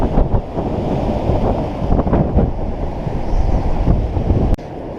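Strong, gusty wind buffets the microphone at a catfish fishing spot, a loud rumbling roar that surges and eases in waves, with faint water sounds underneath and no talking.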